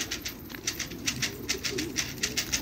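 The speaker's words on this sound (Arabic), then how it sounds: "خلي الحمام تخور عليه هيك بفز" Pigeons coo in a quiet, rhythmic series of soft repeated calls close by, with no talking.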